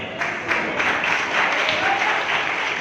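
A church congregation claps loudly and continuously, a dense wash of applause that holds steady from start to finish.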